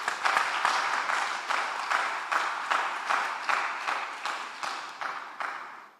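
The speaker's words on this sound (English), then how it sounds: "Let's give ourselves a clap." Applause from the audience at a credit union annual general meeting, steady clapping sustained for about six seconds before fading out at the end.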